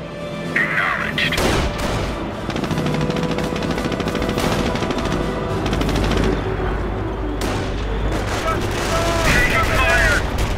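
Dense battlefield gunfire from Company of Heroes during a Normandy invasion campaign fight: rapid machine-gun bursts and rifle shots with booming explosions, continuous and loud, with shouted voices mixed in.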